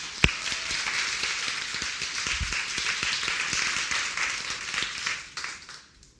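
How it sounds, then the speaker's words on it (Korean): Congregation at a church sermon breaks into sustained applause, dense steady clapping from many hands filling the room for several seconds before fading out at the end. "우리 박수 한번 쳐주면 좋겠어요."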